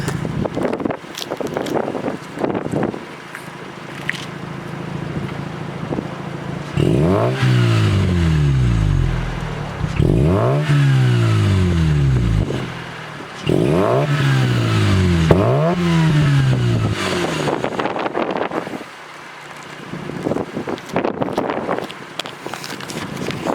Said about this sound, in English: Okay, I'll give you a little rev.